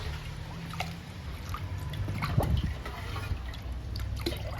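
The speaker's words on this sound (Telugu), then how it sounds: "బియ్యం గడిగిన నీళ్లు మనీ ప్లాంట్కి ఇస్తున్నాను" Soured rice-washing water poured onto a potted money plant, a faint continuous trickle and splash of liquid under low background noise.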